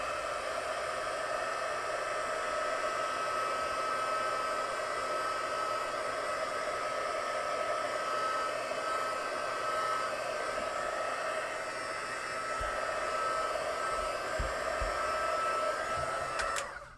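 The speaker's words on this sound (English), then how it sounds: "so I'm just going to basically heat dry that" A heat tool blows steadily to dry a craft piece, a continuous loud whirring rush of air that holds unbroken for over fifteen seconds before cutting off with a few soft knocks near the end.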